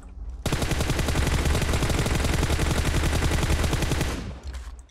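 Automatic gunfire in the mobile battle royale game PUBG Mobile, a dense, loud, unbroken rattle of rapid shots lasting several seconds before cutting off, with no talk over it.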